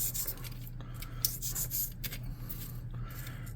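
Scrap material being cut by hand into rough, chunky pieces for a tabletop rock layer, heard as a steady run of close, soft scraping and snipping strokes over a low background hum, with no talking.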